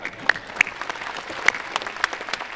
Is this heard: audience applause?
yes